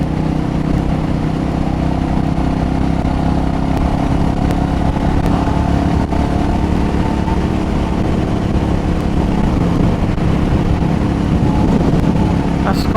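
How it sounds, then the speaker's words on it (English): Motorcycle being ridden on the road, a loud steady engine drone with wind rush that holds constant throughout, heard from the rider's position. "So much fun being on this bike."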